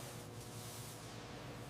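Manual paint spray guns hiss in a steady, continuous broad spray, close and alone, while paint is applied to a heavy truck restoration.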